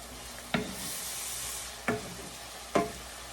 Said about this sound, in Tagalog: I will saute this onions and garlic until this will become brown